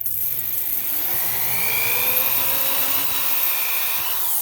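A variable speed drill bores a hole in a chromatic harmonica slider, giving a continuous high whine with slowly shifting pitch and a low motor hum underneath, steady and close throughout.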